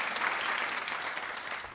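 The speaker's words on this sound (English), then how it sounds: "Clap if you do" A studio audience on a daytime talk show claps in a brief, dense burst of applause, steady and fairly loud, tapering slightly at the end.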